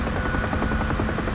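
A steady, close military helicopter in the DCS combat flight simulator, its rotor chop and turbine drone forming a continuous dense thrum with a faint whine, heard alone without talk.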